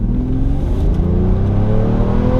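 A Mercedes S600 V12 accelerates in Tiptronic mode after an engine misfire repair, its engine note rising steadily and loudly from inside the cabin, with no talk.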